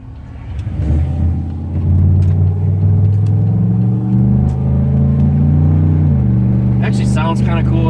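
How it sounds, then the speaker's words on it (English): A car engine with an exhaust leak idles with a raspy, rumbling exhaust, revving up briefly and settling, close and loud, with a voice speaking over it near the end. "Sounds kind of cool with that exhaust leak"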